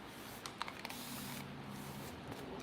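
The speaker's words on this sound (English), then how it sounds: "we're just gonna spray this way so I don't get paint or water on my paint" Water sprayed over painted furniture during a paint-finishing job, a soft steady hiss of spray at low volume with a few faint clicks and taps near the start.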